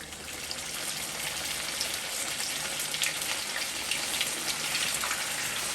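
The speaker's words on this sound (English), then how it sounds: "I'm going to fry my last two here." Guyanese dumplings fry in hot oil with a steady, close hiss and crackle that holds evenly throughout, with no voices.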